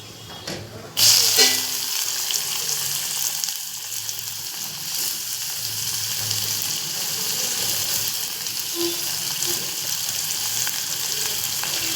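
Onions frying in hot oil with cumin seeds for a gobi aloo mutter sabji, a steady close sizzle and crackle running throughout after a brief clatter at the start, with no talking.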